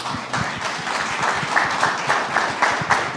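Audience applause welcoming Joey Palmer, Chief Innovation Officer of iProof, at an international seminar; steady, dense clapping from a crowd, moderately loud and continuous throughout with no talk over it.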